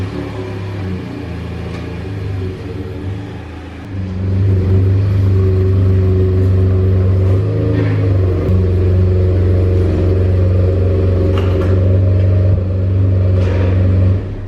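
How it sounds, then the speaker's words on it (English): Pickup truck engine running while backing up, a steady low rumbling idle that swells louder partway through and then holds at a heavier drone, close by. "I need to back up the truck here so we can work on."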